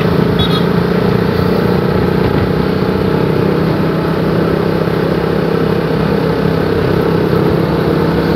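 A motorcycle ridden fast on the road near Nagarkot, Nepal, gives a steady, loud engine drone that runs unbroken for the whole stretch, with no one talking.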